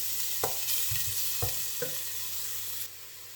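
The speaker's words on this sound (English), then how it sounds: "And we'll just give that a little bit of a stir." Ginger sizzling in a pot, a steady hiss with a few knocks and scrapes as a spoon stirs it, close up, the sizzle easing slightly near the end, no talking.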